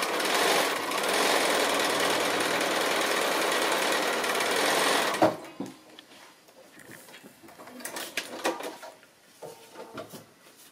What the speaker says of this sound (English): So I'm actually going to go ahead and stitch that on.